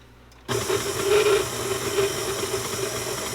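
An electric mixer switches on abruptly and whirs steadily through vegan, gluten-free chocolate chip cookie dough, a loud, close motor drone with a slight churning waver and no talking.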